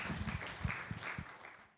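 A church congregation claps together in a brief burst of applause, with quick uneven hand claps fading out after under two seconds, moderately distant and without talk.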